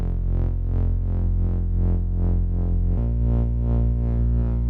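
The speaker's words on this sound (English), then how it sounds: "the sub fatty here in the break, doing a bass with filter opening up" A Moog Sub Phatty bass synth holds a deep, sustained bass tone while its filter sweeps open and closed in a steady pulsing rhythm, and the pitch shifts down partway through. The sound is loud and up close, with no voices.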